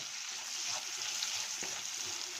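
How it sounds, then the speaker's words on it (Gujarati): Finely chopped onion frying in hot oil, a quiet, steady sizzle with a faint crackle, close and alone. "એને આપણે તેલમાં ગોલ્ડન બ્રાઉન કલરની શેકી લઈએ"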